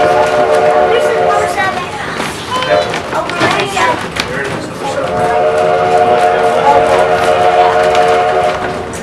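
An 1880 steam train sounds its whistle at a road crossing in the Black Hills, a long sustained tone fading and returning amid the rumble of the moving train, with people talking nearby.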